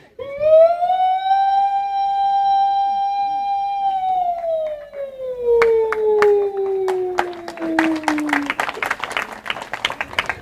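A voice imitates a police jeep siren, starting with a long steady wail that then slides downward as it fades. Sharp claps and applause break in over the final seconds.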